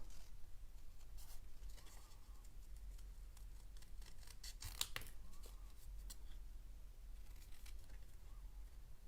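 Scissors snip through cardstock at a craft table while a penguin-themed birthday card is assembled, giving scattered quiet cuts and paper rustles over a low background hum, with no talking.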